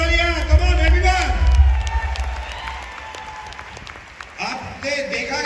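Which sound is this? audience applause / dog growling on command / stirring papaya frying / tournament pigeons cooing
audience applause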